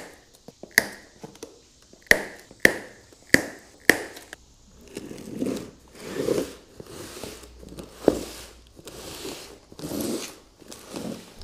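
A cardboard box of Okuma bass fishing rods is cut and pulled open: several sharp taps and rips in the first seconds, then a run of rhythmic scraping and rustling bursts as the flaps and packing are worked apart, close up with no talk.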